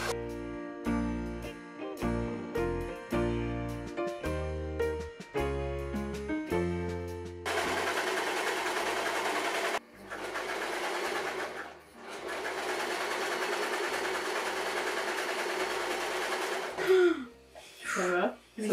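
Music plays first, then an overlocker serges the edges of a denim jacket, running in a loud steady whir broken by short pauses and a few clicks near the end.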